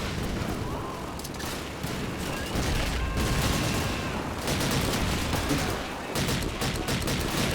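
In the World War II shooter Call of Duty 2, continuous loud gunfire rolls through a battlefield, with dense rifle and machine-gun bursts and booming blasts layered over each other, and a voice can be heard faintly beneath it.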